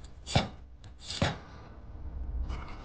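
A kitchen knife halves bird's eye chili peppers on a cutting board, giving two crisp, close chops a little under a second apart, then a soft rustle. No talking.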